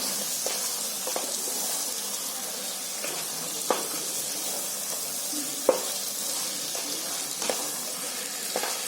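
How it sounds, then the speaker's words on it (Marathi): Mutton coated in red chilli powder and garam masala sizzles steadily in a pan while it is stirred, with soft broadband hiss throughout and occasional scraping clicks from the spoon, close and fairly quiet with no talking. "सर्व मसाले टाकत आहे ना असं 2-2 मिनिटं हलवत राहायचं"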